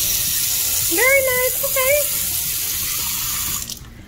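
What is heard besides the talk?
filtered water running from hotel room water dispenser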